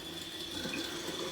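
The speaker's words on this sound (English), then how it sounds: "Actually, let's run the water first." A bathroom tap runs water into a sink in a steady, close hiss that continues unbroken, with no talking.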